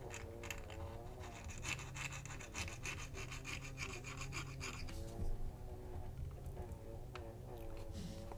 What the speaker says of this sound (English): They obstruct the fit in the close position, so I'm just scraping those off.